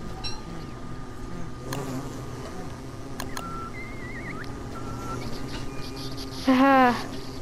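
Bees buzzing in the video game Don't Starve Shipwrecked: a steady insect drone runs throughout, with brief game chimes and a louder rising sweep near the end.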